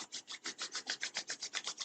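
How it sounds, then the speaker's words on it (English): Palms rub briskly together in a quick, even back-and-forth rhythm of about a dozen soft, close swishing strokes. "Rub your palms together."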